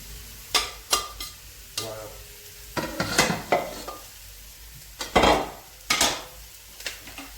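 Leeks and onions frying in rendered sausage fat while being stirred, with repeated scraping and clattering of a utensil against the pan over a soft sizzle.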